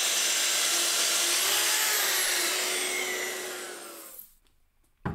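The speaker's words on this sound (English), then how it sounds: "The shop vac that I'm using plugs directly into the wall, and then the tool plugs into the shop vac. So when it turns on, it'll automatically start up." A shop vac connected to a power tool in a woodworking shop roars loudly and steadily up close, then winds down and goes quiet near the end, with a brief knock after it.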